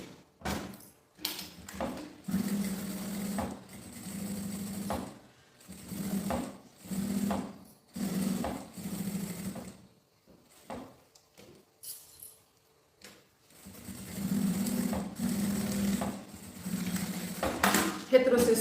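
Sewing machine stitching the bias-bound seam of a small toiletry pouch with a backstitch, short bursts of fast motor whirring broken by pauses, handling clinks and someone talking between runs.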